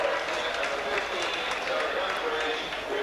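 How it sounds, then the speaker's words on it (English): A rugby league stadium crowd in the main stand applauds a substituted player, a broad, steady wash of clapping and cheering with a commentator talking over it. "Standing ovation in this main stand where I am."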